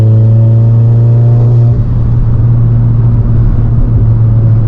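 A loud tuned 600bhp Golf R engine drones and pulls hard under acceleration in sixth gear, a steady powerful rumble with a brief dip as it shifts, no talking.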